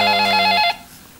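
A telephone rings loudly with a trilling bell tone for about half a second, then cuts off into quiet room noise, during a television talk show about COVID-19 handling in Banda Aceh.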